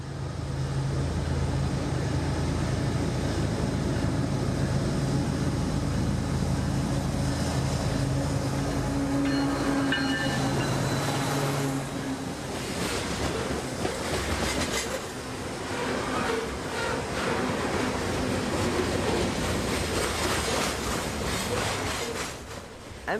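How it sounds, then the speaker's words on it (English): Freight train M452 with two locomotives working wide open and 148 cars cresting a hill in a downtown, a steady loud rumble of rolling wagons with clickety-clack, heard alone without voices. "with 2 locomotives wide open, cresting the hill in downtown with 148 cars in trail"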